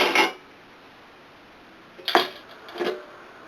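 Short hard clinks from handling the deep metal dish of a Ninja air fryer: one cluster at the start, then two more separate knocks after a quiet pause, close by with no talk.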